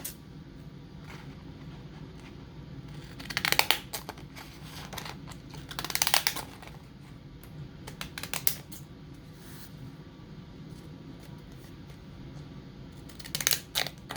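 Scissors snip through paper to cut out a faux stamp embellishment, a few quiet crisp cuts in short clusters against a soft room background.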